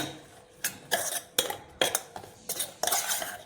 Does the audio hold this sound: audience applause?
no